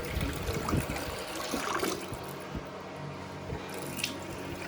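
Cold water runs steadily from a tap fitted with a newly replaced Wolverine Brass shut-off valve, a continuous close splashing hiss with small drips and clinks, no talk.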